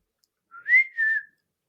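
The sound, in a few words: person whistling, imitating a heard whistle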